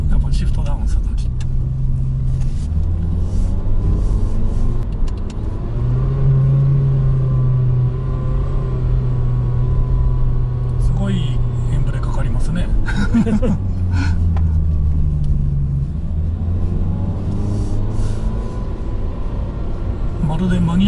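A blue Honda Fit RS engine rumbles steadily while descending a winding mountain pass, with revs changing as the paddle shifters drop gears. People talk over the continuous drone throughout.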